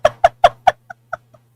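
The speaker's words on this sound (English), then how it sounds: "You can hear my bird." A pet bird at home gives a series of seven sharp, clucking calls, the first four loud and evenly spaced, the last three quieter and sparser, over a steady low electrical hum.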